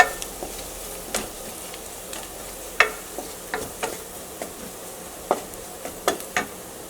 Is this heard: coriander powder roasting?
yes